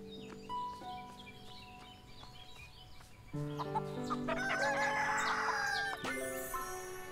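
Rooster crowing and clucking in the farming game Everdream Valley, several bird calls over light background music, with a louder, fuller crow standing out near the end.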